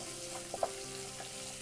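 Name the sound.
frying on medium heat in a pan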